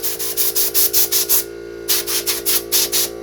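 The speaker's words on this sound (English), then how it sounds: "I use steel wool to clean the frets" Steel wool scrubs the frets of a used Japanese electric guitar in quick, rhythmic back-and-forth strokes, a burst of about seven rubs, a brief pause, then another run of strokes, close and loud.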